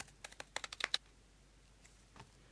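Scissors snipping cereal-box cardboard into an earring shape: a quick burst of about eight crisp, close clicks, then near silence with a couple of faint rustles.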